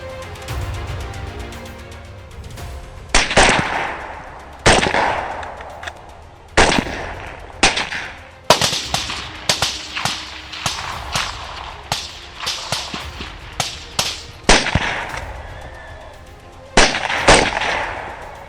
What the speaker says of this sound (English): Gunshots ring out in the night, but tensions never subside.